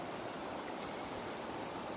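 River water flows steadily in the Aude, a soft continuous rushing wash of even, broadband noise. It is faint and unbroken, with no voices.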